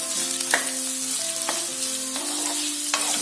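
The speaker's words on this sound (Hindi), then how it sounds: "तो ये मैंने प्याज को 2 मिनट तक फ्राई कर लिया है।" Onions frying in a pan for matar paneer: a steady crackling sizzle with a few quick spatula clicks over a short stretch, set against soft sustained background tones.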